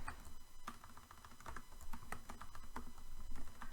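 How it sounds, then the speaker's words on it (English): Steady typing on a computer keyboard, with quick irregular key clicks and occasional sharper taps running throughout at close range, with no speech. "I can type."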